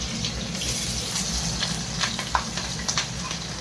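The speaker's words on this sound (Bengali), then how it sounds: "এখন এগুলো ভালো করে ভাজা ভাজা হোক।" Onion, garlic, green chilli and cumin frying in a kadai, a steady hissing sizzle with faint stirring clicks and scrapes throughout.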